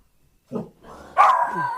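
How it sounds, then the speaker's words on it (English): Dogs barking indoors, a couple of sharp close barks followed by a longer, louder yelping outburst that runs to the end. "my dogs are going mental"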